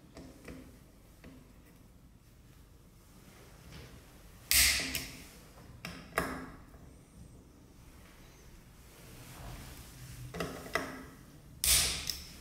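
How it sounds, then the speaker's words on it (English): A VOERE fixed torque wrench set to 10 newton metres tightening barrel screws on a rifle in a workshop, giving sharp isolated clicks and ratcheting snaps spaced several seconds apart over quiet room tone. "We use the VOERE fixed torque wrench,"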